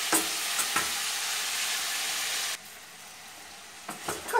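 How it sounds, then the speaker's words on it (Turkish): Green beans sautéing in olive oil in a pan, a steady loud sizzle with occasional stirring scrapes, the frying dropping to a softer hiss partway through. "Şimdi birlikte şöyle yavaşça çevirerek 3-4 dakika kadar da bu şekilde kavuracağım."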